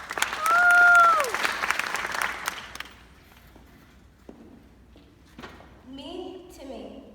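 An audience claps to welcome a poetry reader to the stage, loud applause for about three seconds that quickly dies away, followed by footsteps and a voice speaking.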